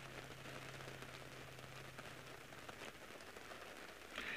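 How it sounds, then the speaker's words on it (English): Rain falls during a safari drive, a faint, steady patter of drops on surfaces with a brief low hum early on and no voices. "this has been quite a bit of rain this afternoon"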